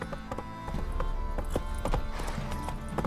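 In The Witcher 3, a horse's hooves clip-clop in a steady, fairly loud rhythm over a dense bed of game music and ambience.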